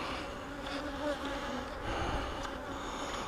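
Honey bees swarm around an open hive frame, a dense, steady buzzing drone heard close and continuous throughout.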